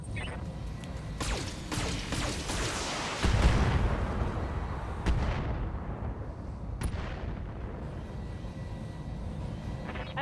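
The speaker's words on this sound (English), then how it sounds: "I'm under heavy fire." Heavy weapons fire in the mech combat game Battletech: a dense roar of impacts and a booming blast, with a few sharp cracks standing out, then fading into a lower rumble.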